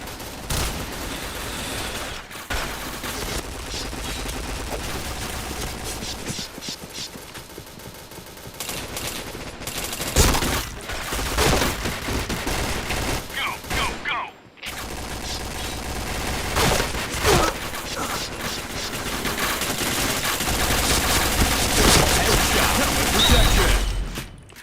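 Dense, loud gunfire from a shooting video game: rapid bursts and automatic fire run almost continuously, with brief gaps between volleys.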